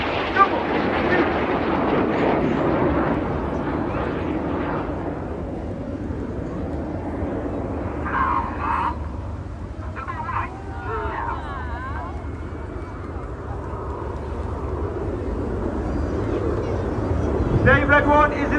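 Red Arrows jets perform a flying display at the 2022 Bournemouth Airshow, their engines a broad, distant roar that rises and falls throughout while a commentator talks over it, with wind buffeting the microphone.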